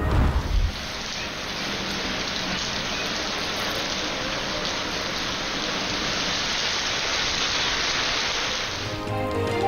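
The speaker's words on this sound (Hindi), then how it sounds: "अभी 2 घंटे से बारिश हो रही है लगातार" Heavy monsoon rain pours steadily, a dense, loud, unbroken hiss of falling water that holds evenly for nearly ten seconds with no voices.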